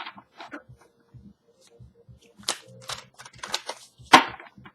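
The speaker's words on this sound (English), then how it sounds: "mind my silence while I shuffle the cards" Oracle cards are shuffled by hand close up, giving scattered soft clicks and papery snaps that build into a few sharper slaps near the end, with quiet gaps between them.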